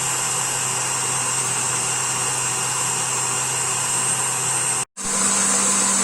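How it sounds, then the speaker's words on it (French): A KitchenAid stand mixer whipping cake batter at full speed, a loud constant motor whir that cuts out for a split second before resuming. "Et voilà, donc le batteur à fond, hein. Là c'est une KitchenAid, donc voilà, il est à fond."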